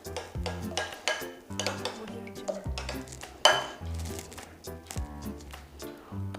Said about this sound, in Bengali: টক দইতে সামান্য জল লাগবে, জল করে ভালো করে মাখিয়ে নিব